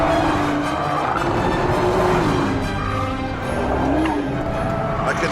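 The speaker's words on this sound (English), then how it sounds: "I can hear the tyres squealing now" Tyres squeal under hard throttle from a 500-horsepower car, a sustained wavering screech riding over loud engine roar and road noise without letup.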